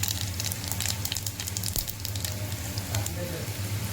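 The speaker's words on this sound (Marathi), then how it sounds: "चमचा तूप टाकले राई थोडीशी राई टाकायची राईपेक्षा जिरा जास्त टाकायचं" Mustard seeds and cumin sizzle and crackle steadily in hot ghee in a pan, with continuous dense frying noise, scattered pops and a steady low hum beneath, close by.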